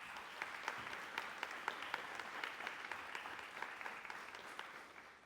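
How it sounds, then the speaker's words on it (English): Graduates of a youth council class applaud together in a room, a steady, fairly faint wash of clapping with scattered sharper claps that continues throughout. "Clap it up for yourselves."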